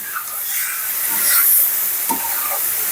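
Spices and curry paste with ginger, cumin and coriander fry in a pan, a steady loud hiss with bursts of sputtering and brief stirring knocks.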